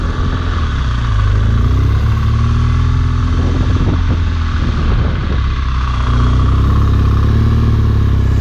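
A motorcycle riding slowly in second gear on cruise control, with a loud, steady close-up engine drone that shifts pitch slightly midway, the rider silent.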